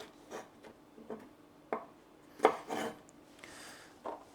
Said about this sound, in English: the last thing for chopping are some green beans